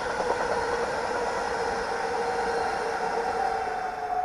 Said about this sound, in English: Here comes a train now, you might see it.